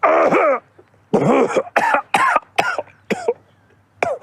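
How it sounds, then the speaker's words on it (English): Several harsh, throaty coughs come in a quick irregular series, loud and close, with brief gaps between bursts and no talking. "I mean, if you consider coughing violent and sudden, I guess."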